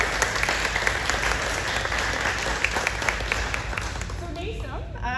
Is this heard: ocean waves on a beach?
no